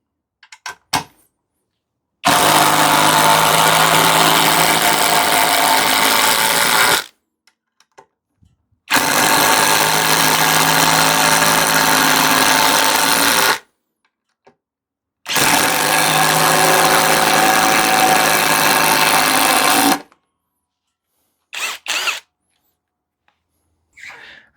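A Parkside Performance 12V impact driver driving a screw into wood gives three long, loud bursts of rapid hammering rattle of several seconds each. Short silent pauses separate the bursts, and faint clicks and handling noises come before and after.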